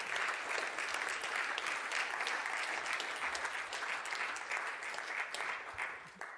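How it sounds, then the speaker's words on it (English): Sustained applause from an event audience as industry partners come on stage at a university engineering programme launch, a dense, even wash of clapping at moderate distance lasting throughout and tapering slightly at the end. "Give them a round of applause."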